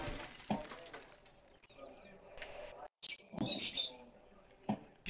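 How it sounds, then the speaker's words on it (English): Bird chirps from the 7 Days to Die game, short tweets mixed with a glassy shattering clatter, with a player talking over the game sounds. "You scared me. Your bird scared me."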